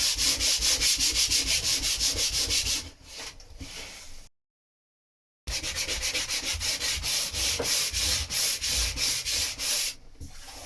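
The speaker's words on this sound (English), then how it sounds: "So what I'm doing is sanding that down to take the top off" Rhythmic abrasive sanding of a boat hull surface with a fast back-and-forth rubbing pulse, close and loud, pausing briefly in the middle before resuming.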